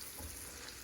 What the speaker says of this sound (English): Once the butter is melted, add the spring onions and also the regular onions.